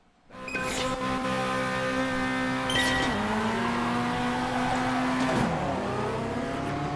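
A Fiat Uno race car in the Automobilista 2 racing game revs hard and accelerates through several gear changes, engine loud and steady, with other cars droning in the pack and no talking.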